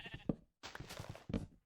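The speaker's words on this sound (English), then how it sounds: "Hello, sheep." A Minecraft sheep bleats three times in short, nasal cries, close and clear with brief pauses between them.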